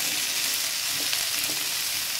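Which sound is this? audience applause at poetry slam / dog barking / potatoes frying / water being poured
potatoes frying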